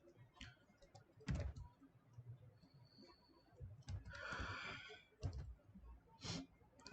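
Keys clacking on a computer keyboard during a beginner HTML coding session, sparse irregular taps and short bursts at low level against quiet room noise.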